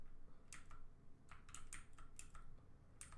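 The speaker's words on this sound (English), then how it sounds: "this is a mechanical keyboard, guys. So you will hear it click" A mechanical computer keyboard clatters under quick typing, with close, crisp clicks in short irregular bursts and brief pauses between them. No one speaks.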